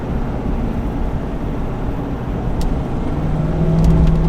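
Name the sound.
Chevy 2500 Duramax truck downshifting while towing uphill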